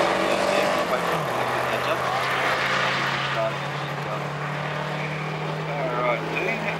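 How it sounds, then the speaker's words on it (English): A drag racing car does a tyre burnout at a VW Showdown drag meet. A steady, loud engine drone mixes with rough tyre roar, and a commentator talks over it throughout. "Dean Penrose, turn the tyres a bit of launch there. They've got a good burnout so far."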